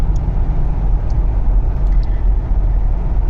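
Steady low road rumble from a car interior while driving home, loud and continuous with no talk.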